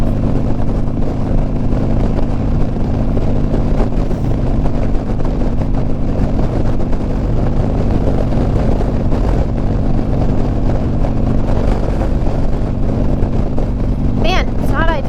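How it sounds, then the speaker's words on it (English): Steady, loud wind buffeting roars against a rider travelling behind other vehicles on the road, a dense low rumble filling the whole stretch with a brief sharper sound near the end. "Man, it's not ideal riding behind these vehicles. You're getting a lot of buffeting."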